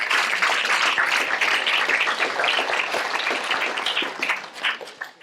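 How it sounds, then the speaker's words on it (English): An auditorium audience at a Duke start-up demo day applauds the pitch teams. Dense, steady clapping from a large crowd holds at full strength, then tapers off in the final moments. "let's give a big round of applause to everybody who pitched"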